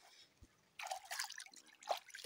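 Stream water flowing in cold, clear conditions, a faint close trickling and dribbling with quiet bubbling splashes that come and go.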